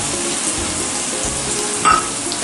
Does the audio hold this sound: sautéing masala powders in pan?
yes